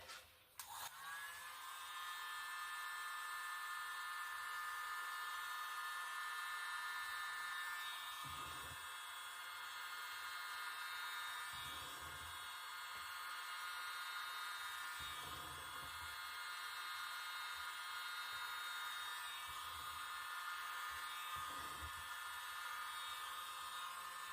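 A hair dryer blows wet acrylic paint across a Dutch pour, giving a steady, fairly faint whine and rush of air that runs almost the whole time with a few brief dips.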